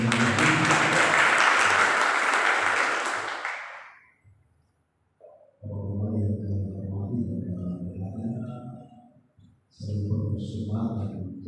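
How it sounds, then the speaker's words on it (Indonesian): A church congregation at a Sunday service in Jakarta bursts into loud, full applause that lasts about four seconds before fading out, followed by someone speaking over a quieter background. "Berikan tepuk tangan yang meriah"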